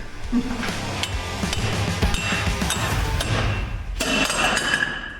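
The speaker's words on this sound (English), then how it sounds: "Got me a claw hammer." A claw hammer strikes a stuck part on a small off-road wrecker, giving repeated sharp metallic knocks amid ongoing clanking and a loud cluster of hits near the end.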